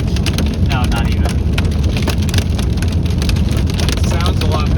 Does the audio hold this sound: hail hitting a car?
yes